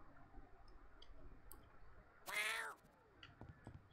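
A cat meows once, short and clear, in the video game YIIK, rising above a faint background of quiet clicks and soft game ambience.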